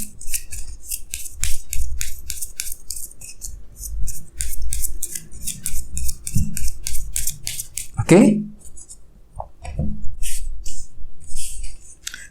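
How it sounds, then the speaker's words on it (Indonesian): Two extra tarot cards are drawn from a deck, making a quick series of crisp snaps and rustles, with a person talking in between. "Jadi di sini saya akan tarik lagi 2 kartu tambahan."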